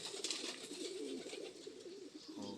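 Racing pigeon arriving at its loft after a 107 km flight, giving soft, faint coos and throaty burbling close by, with no talk in the clip.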